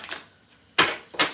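A deck of playing cards is shuffled in short bursts: a brief riffle, a pause, then two sharper flurries of card flutter close by, with no talk over them.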